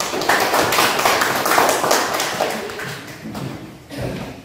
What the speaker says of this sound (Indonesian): Kita berikan tepuk tangan kepada kelompok 1